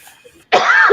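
A single loud, close cough from a man with a lingering cough bursts out suddenly after near silence, rough and sustained for half a second.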